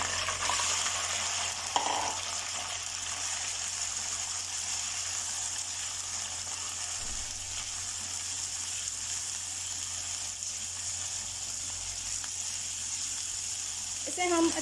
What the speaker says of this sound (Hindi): इसे हम अच्छे से फ्राई करेंगे।